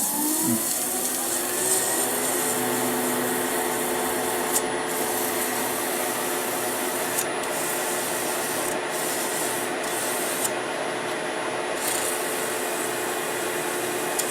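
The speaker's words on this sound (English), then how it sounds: "So really and truly that just needs sanding now." Steady, continuous abrasive rubbing of sanding wood, a dense hiss that runs unbroken throughout at a constant level.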